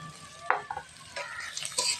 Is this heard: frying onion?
yes